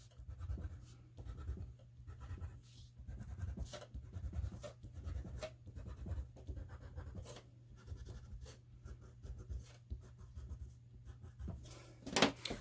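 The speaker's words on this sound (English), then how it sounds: "I'm going to go ahead and color inside of this loop with the yellow" Yellow crayon or marker colouring inside a loop on paper, a steady soft scratchy scribbling that runs continuously at close range, with quiet rhythmic strokes and no talking.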